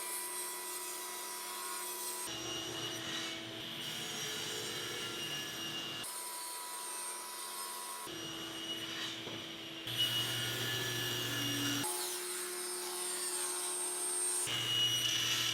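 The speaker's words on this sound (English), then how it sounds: "I actually have more than enough material to make these cuts at the table saw instead of the bandsaw" A table saw rips wood into leg blanks for a laundry hamper, several separate cuts where the blade whines up into the board and drops back between passes, close and steady with no talking.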